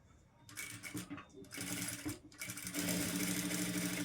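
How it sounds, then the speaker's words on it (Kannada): A sewing machine stitching a blouse whirs in short stuttering runs that build into a steady continuous buzz, close and clear, with speech faintly mixed in. "ಈಗ ಇದನ್ನು ಸ್ಟಿಚ್ ಮಾಡ್ಕೋಬೇಕು ಇದ್ರ ಮೇಲೆ ಈ ರೀತಿ ಹೊಲಿಸ್ಕೊಂಡು"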